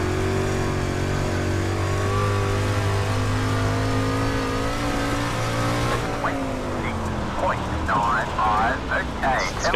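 A street stock race car engine in iRacing at USA Speedway drones steadily at high revs, then drops and rises again with brief shifts in pitch; a voice talks over the second half.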